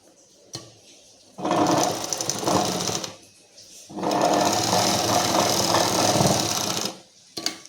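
An overlock sewing machine runs in two steady bursts while locking the neckline edge of a one-piece garment, fast even stitching close and loud, separated by brief pauses with small clicks.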